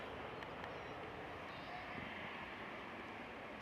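A Eurowings airliner in special Europa Park livery passes at Manchester Airport, its engines a steady, broadband roar at moderate distance with wind rumble.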